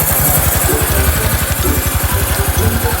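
Stock, unmodified Honda Wave 110i motorcycle engine idling close by, a steady rapid low-pitched putter with an even rhythm throughout, loud and alone.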